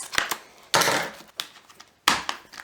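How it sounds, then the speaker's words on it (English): Scissors snip and crunch into the plastic wrap of a Matrix DVD case in a few sharp, close cuts separated by short pauses, with no talking. "Scissors."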